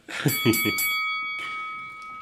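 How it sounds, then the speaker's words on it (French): A gong struck in a boxing-ring setting rings with a steady, sustained metallic tone that slowly fades, while a voice speaks briefly at the start. "le gong a retenti"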